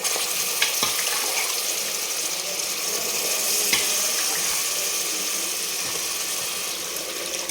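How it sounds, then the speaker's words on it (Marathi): Freshly ground masala with mutton fries in oil in a pan, a steady close sizzle with faint scraping and a couple of light clinks, no talk. "दोन मिनिट परत तेलामध्ये आता परतून घ्यायचं आहे"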